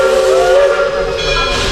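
A steam train at Roaring Camp lets out a loud, close steam whistle with a broad hiss, one sustained blast that wavers slightly.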